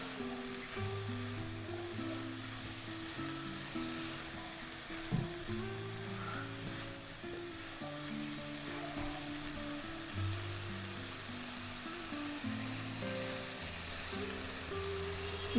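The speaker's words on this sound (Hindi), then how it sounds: "वेजिटेबल्स को चिकन के साथ 30 से 40 सेकंड्स के लिए करेंगे फ्राई" Chicken stir-frying in a pan with carrots, capsicum and onion for fried rice, giving a steady, continuous sizzling hiss that runs under background music throughout.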